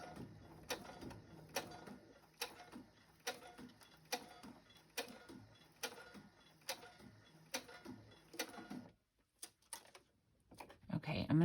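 A sewing machine stitches through scrapbook paper, a quiet run of regular mechanical ticks and clatter that stops near the end, followed by a few scattered clicks and handling noises.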